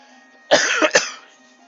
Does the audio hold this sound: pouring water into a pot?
no